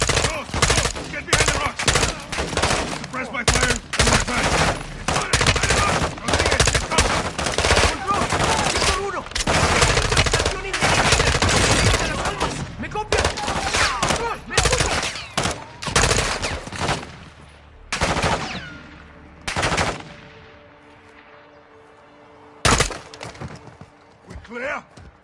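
Heavy gunfire from Call of Duty Modern Warfare 2: dense bursts of rifle and machine-gun fire with loud cracks, nearly continuous for much of the firefight before thinning to a few scattered shots, with battle voices mixed in.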